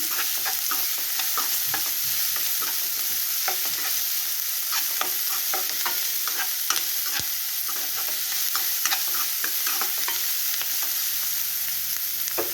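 Food sizzling and frying in a pan, a continuous bright crackle with scattered pops and occasional scraping stirs, close and steady, no voices.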